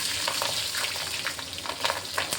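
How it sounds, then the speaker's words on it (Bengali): Green chillies and black cumin fry in hot oil, making a continuous close crackling sizzle with quick popping bursts and faint stirring underneath, heard alone without any voices. "লঙ্কাটা ভাজা হয়েছে"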